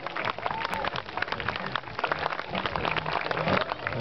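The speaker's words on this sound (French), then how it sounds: "Superbe, on peut l'applaudir" Spectators clap at an outdoor model aircraft meeting, a dense and steady patter of applause that holds for several seconds, with a low rumble and crowd noise running beneath it.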